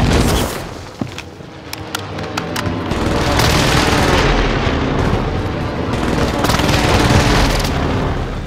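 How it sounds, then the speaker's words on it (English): Enemy precision airstrike in a battle-royale video game: a rapid series of sharp booms and blasts, then sustained loud rumbling explosions rolling on for several seconds, with no speech over them. "Enemy precision airstrike."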